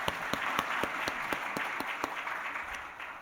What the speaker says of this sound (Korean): 한번 박수 한번 합시다